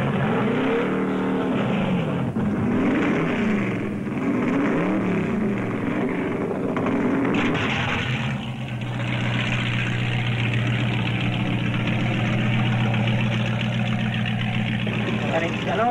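Racing powerboat engines at the Spithead Trophy race in 1978 roar loud and continuous, their drone shifting in pitch as the boats get underway, with heavy rumbling wash and no talk over it.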